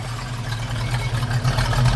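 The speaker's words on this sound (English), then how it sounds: "with the dual exhaust, it sounds good too out the back" Dual exhaust on a 1965 Ford Mustang convertible V8 burbles at idle from close behind the car, a steady low rumble with faint uneven pulses and no talking.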